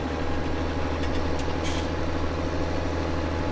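Combine harvester engine idling in Farming Simulator 17, a steady low diesel rumble with constant mechanical hum, even and unbroken throughout.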